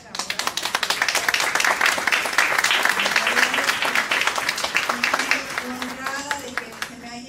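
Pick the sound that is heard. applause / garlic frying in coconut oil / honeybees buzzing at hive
applause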